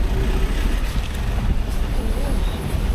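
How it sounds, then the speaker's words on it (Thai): Steady wind rushes and buffets the microphone on a narrow forest road to a village in northern Thailand. It is loud and continuous, with a faint voice underneath. "ดูสิ ลมรื่นมาก ๆ"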